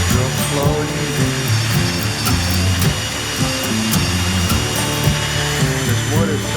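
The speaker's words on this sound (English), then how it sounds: "This wood is so wet, it's hard" A drill bores slowly into wet wood held by a foot clamp, a loud, steady whirring with uneven pulsing strain as the bit labours through the damp board.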